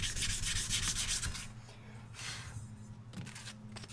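An aluminum compressor housing is hand-sanded with 120 grit sandpaper, producing close, rhythmic scratchy rubbing strokes that come in bursts with brief pauses between them.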